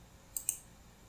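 Two quick mouse clicks, close and crisp, about a tenth of a second apart, heard alone against a quiet room while saving a project in LibreCAD.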